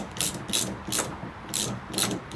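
A socket wrench ratchets a nut off a stud behind the applique on a 2007–2008 Chevrolet Suburban or Tahoe, giving about five short, crisp clicking bursts in a steady rhythm, close and fairly quiet with no talking.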